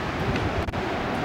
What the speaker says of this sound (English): The wind's pushing these waves right now